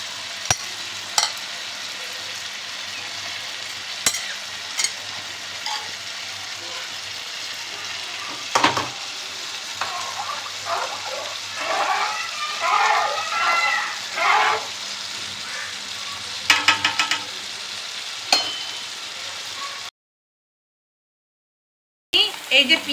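Rice goes into boiling spiced water for biryani and is stirred, making a low bubbling bed with scattered splashes and scraping strokes, busier in the middle, then a brief silent gap near the end.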